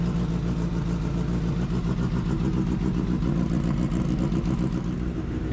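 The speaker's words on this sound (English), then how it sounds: "I'm going to wait for it to finish its warm-up cycle and then give it a couple of revs." Honda CBR1000RR FireBlade superbike, a crashed project bike under rebuild, idling in neutral after warm-up: a loud, steady, close engine drone with an even low rumble and no revving.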